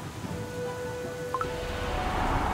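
Steady rain in the Cookie Run Kingdom video game story, a soft continuous hiss of falling drops with a faint, brief tonal chime partway through.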